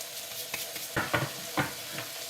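Courgettes lightly coated with paprika and black pepper frying in a pan: a steady close sizzle with several soft scraping stirs and shuffles at irregular intervals, no voices.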